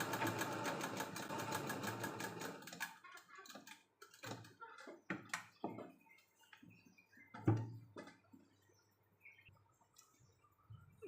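A sewing machine stitches a flower outline on the back neck of a blouse, running steadily and close at first, then stopping into scattered handling clicks and short bursts.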